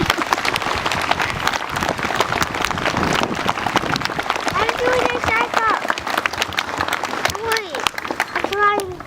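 Applause from a school assembly audience at a veterans salute welcoming a guest commander, a full, busy wash of clapping with some voices and higher tonal sounds mixed in toward the end.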